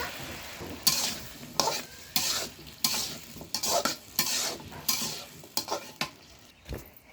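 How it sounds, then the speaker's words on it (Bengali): Potatoes stirred and sautéed in a pan, a spoon scraping through them in regular strokes over a steady sizzle, close and fairly loud with no talking. "এখন আলুগুলা দিয়ে কষাই নেব।"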